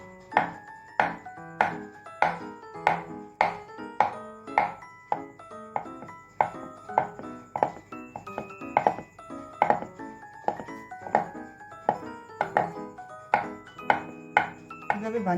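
Steady rhythmic knife chops through lachha paratha dough on a board, about fifteen crisp close strikes at an even pace with no talking.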